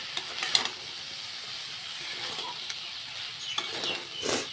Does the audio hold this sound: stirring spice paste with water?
yes